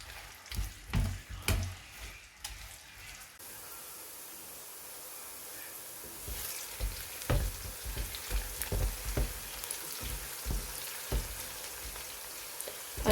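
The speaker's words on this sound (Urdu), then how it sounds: "اس میں تقریباً ½ kg جو انین ہے وہ میں سلائس کر کے شامل کروں گی، اور اس کو ہلکا سا فرائی کریں گے" Sliced onions, about half a kilo, fry in hot oil in a karahi for mutton karahi gosht, a steady close sizzle with scattered crackling pops and brief stirring clatter, no talk.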